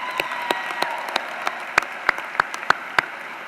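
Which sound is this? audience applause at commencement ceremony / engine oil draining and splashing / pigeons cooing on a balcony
audience applause at commencement ceremony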